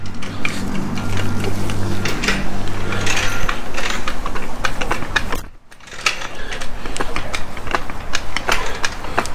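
A hydraulic floor jack being pumped to lift a car wheel in a tire garage, giving busy repeated mechanical clicks and clanks through the whole stretch with a brief pause midway, close and fairly loud.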